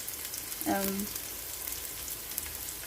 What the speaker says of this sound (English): wait for the onions to brown, just to brown a little bit, like they are burning